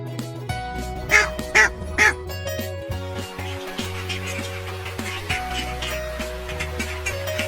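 A duck quacks three times in quick succession, loud and close, over a sustained low musical backing that carries on after the calls stop.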